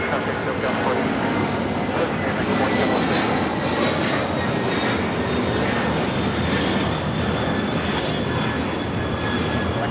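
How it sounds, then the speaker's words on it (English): A DHL Boeing 767-300 converted freighter operated by ABX Air takes off at Los Angeles airport, a loud continuous jet roar with a thin high whine running through it, close and sustained, with talk over it. "This is DHL operated by ABX Air 410 taking off to Cincinnati on the 767-300 converted freighter"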